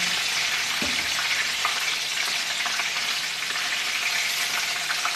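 Butter chicken sizzling and frying in a pan while being stirred, a steady close hiss running throughout with faint scraping from the stirring.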